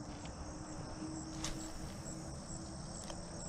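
Crickets or similar insects chirp on a quiet evening fishing outing, a faint, steady high trill with a few soft repeated pulses over low background hiss.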